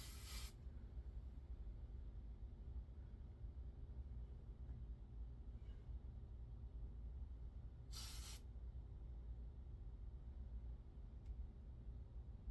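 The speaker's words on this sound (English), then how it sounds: "I'm going to put them where I want them, down, and spray." Two short bursts of hairspray being sprayed onto thin, fine hair, one at the start and another about eight seconds later, heard over a steady low background hum.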